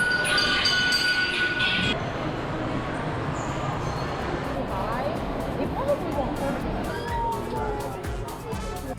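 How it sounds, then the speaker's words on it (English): Mall train ride inside a two-storey shopping mall, a steady rumbling roll with clattering wheels and occasional squeals, a brief bright tone near the start, with crowd chatter and nearby voices mixed in throughout. "get on the train."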